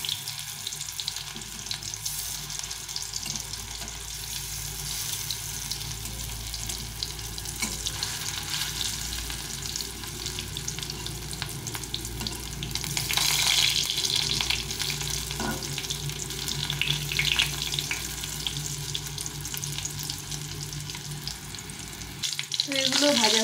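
Fish-oil fritters frying in a pan of hot oil, giving a steady, close sizzle and crackle that runs throughout and swells slightly toward the end, with no talking.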